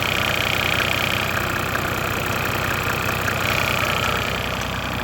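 Mercedes OM606 turbo diesel engine idling after a cold start, a steady, loud, close mechanical rumble with a fine diesel clatter that holds throughout, worn engine mount.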